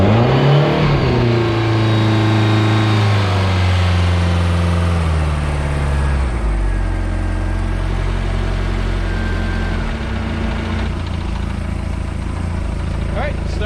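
A MerCruiser 3.0L Alpha One inboard/outboard boat engine cranks, catches and settles into a loud, close idle that rises and falls as the throttle is worked, with someone talking over it.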